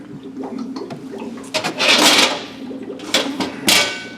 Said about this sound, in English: Water then blasts on this perforated column here to clean it for a predetermined amount of time